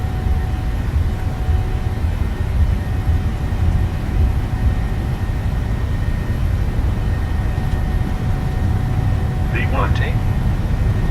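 A PMDG airliner on its takeoff roll in Microsoft Flight Simulator 2020, heard from inside as a steady loud engine roar and rumble at full thrust, with cockpit voices speaking over it.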